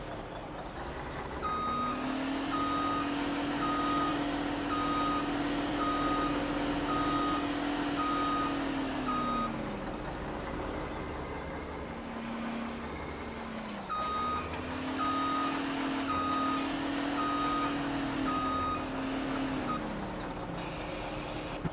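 Truck in Farming Simulator 17 reversing with a steady series of loud electronic backup beeps over a constant engine drone, pausing briefly midway before the beeping resumes; no talking.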